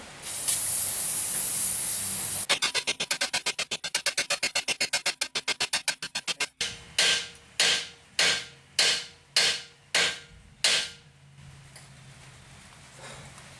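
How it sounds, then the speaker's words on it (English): Repeated short sprays hiss in quick bursts onto a still-hot ball joint and bearing on a 2005 GMC Sierra 1500 4x4, then slower separate blasts, about seven in a steady rhythm, close and fairly loud. "spray, spray, spray, spray, spray while it's still hot."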